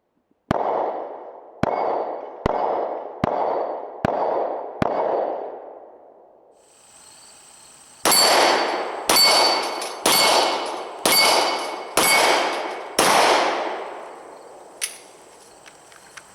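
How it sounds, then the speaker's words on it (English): A Glock 23 Gen 4 in .40 S&W fired at steel targets: six evenly spaced sharp shots, then a second faster string of about six with ringing metallic clangs and echoing decay, no talk. "If I do my part and shoot the gun, you can see no problem hitting steel."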